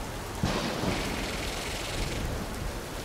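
Steady rain pours down in the survival game Empyrion, a dense continuous hiss with a brief rumble near the start, heard alone with no voices.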